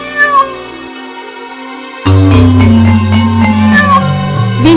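A cat meows in a children's fable, with two short rising-and-falling meows over steady background music that swells louder partway through.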